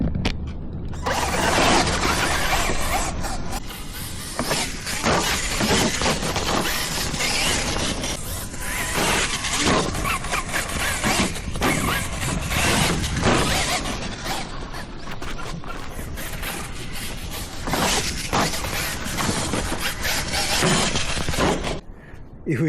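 A Kyosho KC10 LC60 RC car fitted with a 2-speed kit runs in high gear, giving a loud, continuous gear whine and clattering drivetrain rattle for over twenty seconds before cutting off abruptly.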